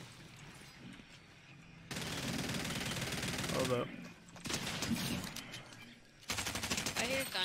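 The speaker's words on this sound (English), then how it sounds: "I hear gunshots." Rapid bursts of gunfire from the Fortnite video game crackle in dense stretches, loud and close, with a player's voice talking briefly over the shooting.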